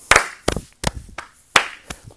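Hands clap out a rhythm in a fourth-grade music lesson, five sharp, close, loud claps in an uneven pattern, with faint taps between them and no voices.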